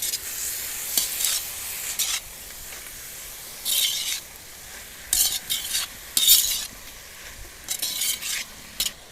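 Vegetables with soy sauce and red chilli sauce are stirred in a hot pan, giving repeated bursts of scraping and hissing sizzle in an uneven rhythm, close and fairly loud, with no talking.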